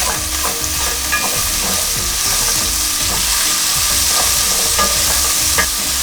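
Onions and garlic fry in a pot for a one-pot pasta with minced meat, giving a loud, even sizzle broken by repeated stirring scrapes and clicks throughout.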